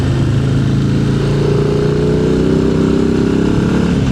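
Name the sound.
Harley-Davidson Low Rider ST motorcycle engine while riding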